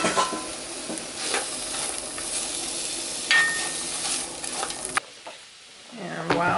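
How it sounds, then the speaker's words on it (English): Diced vegetables sauté in butter in a pot for gumbo, a close steady sizzle broken by stirring scrapes, fading briefly near the end before picking up again. "I'm going to saute these, or cook down these veggies"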